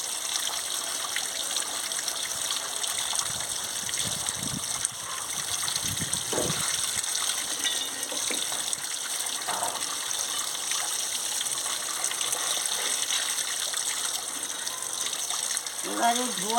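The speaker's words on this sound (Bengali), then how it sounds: "এবারে ধুয়ে নিচ্ছি।" Cut potato and papaya pieces washed under running water in a kitchen, a steady close gush and trickle continuing throughout with small splashes and clinks.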